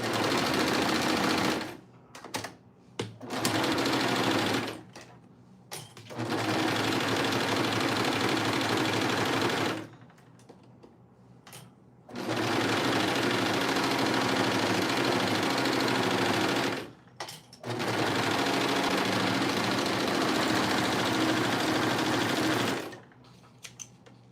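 A sewing machine stitches in several loud, steady bursts of a few seconds each, separated by short quiet pauses. No voices are heard.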